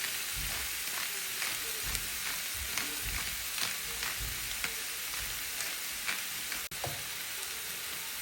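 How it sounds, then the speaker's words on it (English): Cabbage, ground beef and tomato sauce being stirred together in a pot: a soft continuous sizzle with a steady run of light spoon scrapes and taps, close by, no talking. "Mix everything well."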